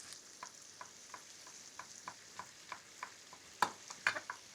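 Garlic hits a hot frying pan with a soft, steady sizzle, broken by a series of faint regular scraping stirs and a couple of sharper clatters near the end; no one speaks.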